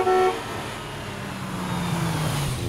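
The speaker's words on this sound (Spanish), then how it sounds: "¡Mira! ¡Allí está un carro!" A cartoon car honks once with a short, bright toot. A steady engine hum follows, and a lower tone slides downward near the end.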